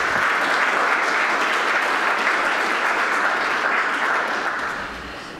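An audience applauds to welcome a speaker at a lecture event, sustained and full clapping from a roomful of people that holds steady, then tapers off at the end.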